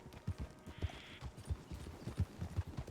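Horse hooves clip-clop in Red Dead Online, an even, close-up plodding rhythm of soft thuds continuing throughout over a faint low hum.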